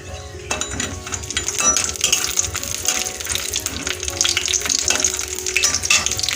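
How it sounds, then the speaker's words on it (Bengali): Bori lentil dumplings frying in hot mustard oil, a dense continuous crackling sizzle that starts abruptly and stays loud and close, with small pops and metallic ticks throughout. "এবার আমি বড়িগুলো ভেজে নেব।"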